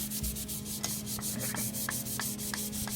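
Black 3M sandpaper rubs back and forth by hand in quick, regular strokes, close and moderately loud, with a steady low electrical hum underneath.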